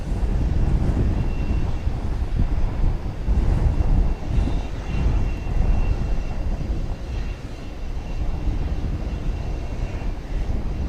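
Planes take off at DFW Airport with a continuous low, rumbling engine roar that swells and eases slightly, heard from a moderate distance with no talking.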